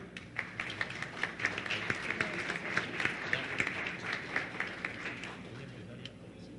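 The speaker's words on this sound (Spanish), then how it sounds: "Si le damos un aplauso, por favor" Audience at a drug policy forum applauds a speaker, moderate scattered clapping with distinct individual claps, fairly even throughout and somewhat distant.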